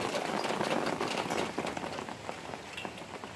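Rain falling outdoors in Ohio, a steady dense patter of drops on surfaces, close and fairly loud at first and then easing slightly, with no voices.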